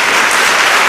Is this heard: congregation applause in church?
yes